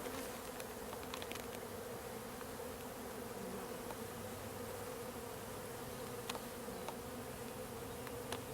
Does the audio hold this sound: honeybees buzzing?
yes